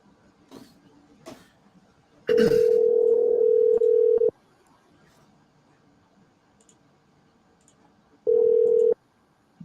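Cell phone call played on speaker: a steady dial tone holds for about two seconds, then a second tone burst follows near the end, with faint background clicks between.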